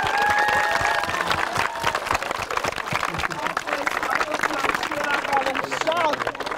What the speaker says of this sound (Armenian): Եկեք մեկ անգամ էլ ծափարենք։